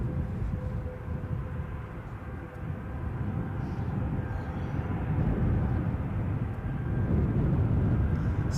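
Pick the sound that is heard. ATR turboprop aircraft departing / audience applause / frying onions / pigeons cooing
ATR turboprop aircraft departing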